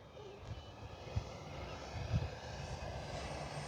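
FMS P-51 Voodoo V2 RC model plane, a 1.1 m warbird on 4S and 6S packs, droning steadily at a distance with a soft, continuous whine that swells gently as it passes.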